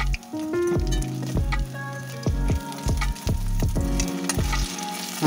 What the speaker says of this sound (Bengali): সর্ষের তেল দিয়ে কোপ্তাগুলো একটা একটা করে ছেড়ে দিচ্ছি। ছেড়ে এগুলো ভেজে আমি তুলে নিচ্ছি।